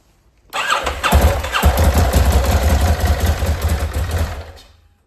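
A Ducati S2R motorcycle engine, cold, cranks and catches, then runs loudly with a rough, uneven idle for a few seconds before cutting off.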